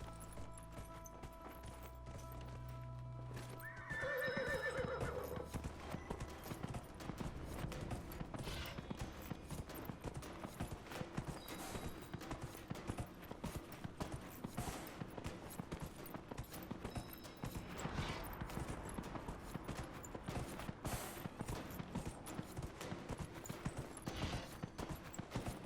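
Horse hooves in Dragon Age: Inquisition, a rapid, steady clip-clop of galloping that runs continuously after a brief game sound at the start, with no talk over it.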